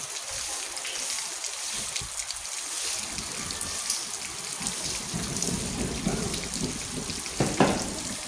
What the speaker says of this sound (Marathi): आत्ता थोडा पाऊस कमी झाला आहे